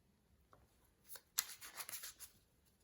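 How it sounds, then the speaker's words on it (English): Tarot cards are shuffled in a short, faint riffling flurry that builds in the middle and fades out, without any voices. "Let's shuffle better the card"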